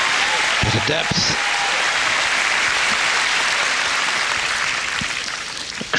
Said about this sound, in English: The crowd are desperately trying to applaud anything from Myskina at the moment.